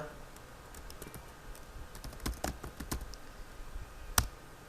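Typing on a computer keyboard while entering words into an MS Word 2016 document, a run of quiet close clicks in irregular bursts with one sharper keystroke near the end, alone without talk.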